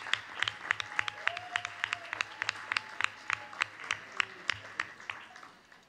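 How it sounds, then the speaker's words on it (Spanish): Scattered, sparse clapping rings out in a legislative chamber as applause for photographers and press photojournalists, with distinct individual claps at a steady pace over faint room noise. "un aplauso enorme para todos los fotógrafos, a los reporteros gráficos"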